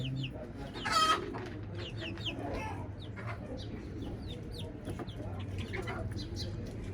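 Mother hen clucking to her free-roaming chicks, repeated soft clucks mixed with high chick peeps and occasional chirps, close by over faint outdoor background; a person talks briefly.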